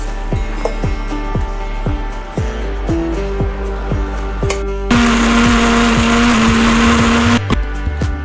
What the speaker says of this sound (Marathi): आता आपण मिक्सरमध्ये फिरवून घ्यायचा आहे।